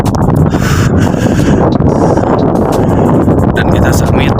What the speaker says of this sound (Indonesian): Asli ini angin di sini kencang